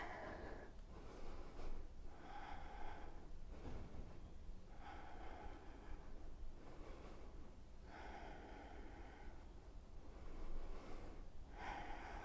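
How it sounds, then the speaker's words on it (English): Slow, deep yoga breaths during guided practice, each long inhale and exhale rising and fading in a steady cycle, close and fairly soft, with no talking. "One more inhale here together."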